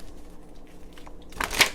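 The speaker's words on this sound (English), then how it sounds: "So I'm going to go ahead and shuffle the deck." Tarot cards being shuffled by hand, a quiet papery riffle building into a brief burst of crisp card flutters near the end.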